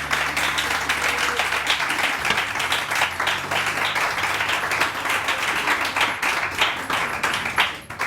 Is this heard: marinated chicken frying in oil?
no